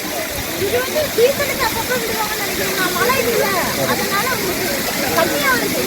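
Constant roaring rush of water pouring at Kodiveri falls near Gobichettipalayam, a dense steady hiss filling the whole stretch, with people's voices faintly audible beneath it.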